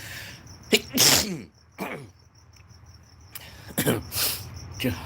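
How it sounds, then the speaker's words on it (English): Two sharp, loud sneezes burst out close by, each with a quick intake before it, while crickets chirp faintly and steadily in the background. "Gotta sneeze."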